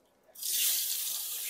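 Water gushes from a tap, starting abruptly and then running in a steady, loud hiss as it fills a container, with no talk over it.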